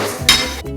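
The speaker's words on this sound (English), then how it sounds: "I'm going to try and break off this piece." A scored vinyl floor plank snaps apart by hand, one sharp crack with a bright brittle edge, close and fairly loud, followed by a brief rustle as the piece comes away.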